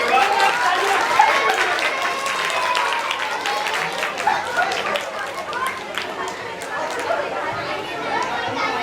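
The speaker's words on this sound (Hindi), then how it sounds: "सभी अनुमोदन करेंगे, ताली बजाकर" An audience at a Jain camp closing ceremony at a Digambar Jain temple in Delhi gives sustained applause, mixed with lively crowd chatter and children's voices.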